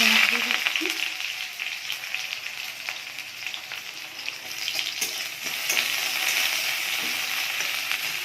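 Dried red chillies sizzle in hot oil in a kadai wok, a steady close frying hiss with crackles that runs unbroken for the whole stretch.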